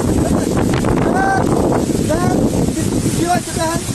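Strong wind gusts buffet the microphone in a flood-hit area of Sherpur, a constant loud roaring rush, while someone talks excitedly over it.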